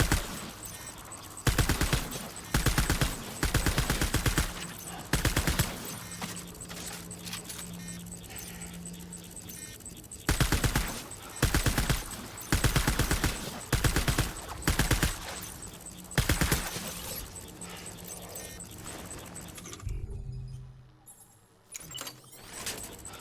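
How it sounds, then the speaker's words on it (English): Gunfire in the video game Death Stranding comes in repeated loud bursts of rapid shots separated by short quieter gaps, and the shooting fades near the end. "How many times do I have to shoot this damn thing?"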